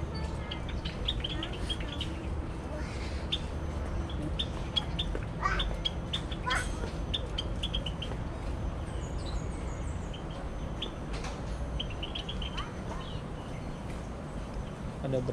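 Birds chirping and calling in an aviary at Jurong Bird Park, where barbets such as red and yellow barbets are being fed; scattered high chirps and tweets sit over a steady ambient hum, with people talking in the background.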